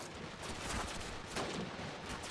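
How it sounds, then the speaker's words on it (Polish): Rapid gunfire from the World War II shooter Call of Duty: United Offensive crackles in a dense burst of shots, fairly faint, with no voices. "Jak to jest możliwe, że strzelam niemiaszkowi w głowę, a niemiaszek żyje?"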